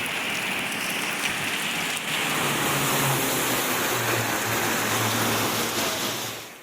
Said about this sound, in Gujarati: જ્યાં આંધી તોફાનની સાથે અનરાધાર વરસાદ વરસ્યો.